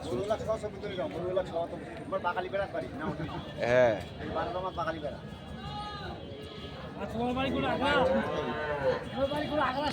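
Native-breed dairy cows with calves low and moo several times at the Ranibandar cattle market in Dinajpur, amid constant crowd noise, with people talking close by.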